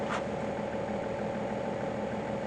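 A BMW engine idles with a steady, low drone without a break, with a brief higher noise right at the start and no voices, while the rear air suspension is faulty.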